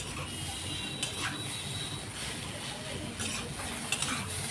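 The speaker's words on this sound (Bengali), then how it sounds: "তাই যে চিনি দিয়ে এবার নাড়াচাড়া দেবো" Boiled, drained pumpkin being stirred with sugar in a dish, a soft continuous bubbling hiss with occasional scraping clicks, fairly quiet and without talk.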